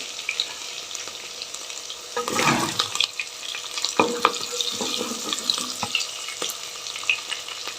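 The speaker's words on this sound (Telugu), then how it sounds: "పచ్చిమిర్చి వేస్తున్నా ఇక ఆనియన్ వేస్తాను నేను ఇందులోకి" Green chillies and onion frying in a pan for sago khichdi, a steady close sizzle with stirring clatter and scrapes bursting through at intervals.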